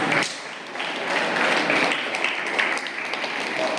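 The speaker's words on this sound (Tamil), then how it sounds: "கைத்தட்டுங்க எல்லாருக்கும்." An audience at a Christmas celebration for catechism students and teachers claps steadily for several seconds, a dense, moderately loud patter of many hands.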